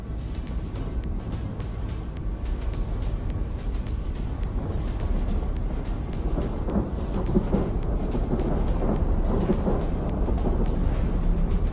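Thunder in a video game: a steady, heavy rumble that swells slightly as it goes on, continuous for about twelve seconds with no pauses and no voices.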